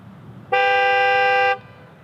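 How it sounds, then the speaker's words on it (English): Horn of a 2021 Genesis G80 sedan set off by the key fob panic button, one loud, strong, steady honk lasting about a second, close by and alone. "Has a nice strong loud horn."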